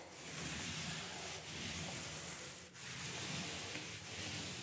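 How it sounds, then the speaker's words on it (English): Paint roller pressed lightly against a bathroom wall, spreading textured paint in a steady, close, continuous soft rasping rub with a couple of brief pauses between passes. "I'm just holding the roller to the wall, that's it."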